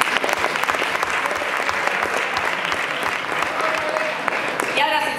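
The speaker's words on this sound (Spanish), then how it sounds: "un aplauso muy fuerte por ella y por Yune" Loud, sustained applause from an audience at a film screening presentation, dense clapping filling the whole stretch before it tapers off near the end.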